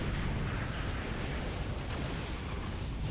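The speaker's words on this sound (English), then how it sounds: "Sumos fire pretty quickly, like once a second." Sumo units in the Total Annihilation real-time strategy game fire cannons in dense, overlapping booming blasts and explosions, loud and continuous throughout, with no speech.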